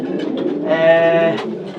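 A racing pigeon coos close by in a breeder's loft, a soft throaty burble rising in the middle, with faint background rustle and no talk.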